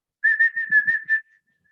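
A person whistles a short steady run of about six pulsed notes on one pitch, close and clear in a quiet room, ending after about a second with a faint trailing tail.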